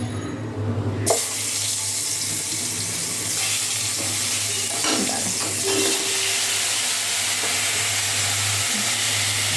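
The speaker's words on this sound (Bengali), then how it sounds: "কুমড়োগুলো ভাজবো।" Pumpkin slices frying in oil in a home kitchen after potatoes, a loud broadband sizzle that bursts in abruptly and stays continuous over a low steady hum, with faint scraping now and then.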